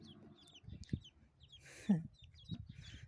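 Ducklings peep in high, thin repeated chirps over low murmuring voices and soft handling noises nearby.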